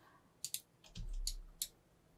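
Sharp, quiet mouse clicks come in a short burst, a couple of quick taps followed by a few more, on the simulation button while working in CLO 3D fashion design software, with faint muffled handling between them.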